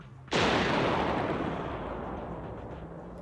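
A single huge explosion in the Zenless Zone Zero video game, a sudden loud boom that rolls into a long, slowly fading roar with no voices.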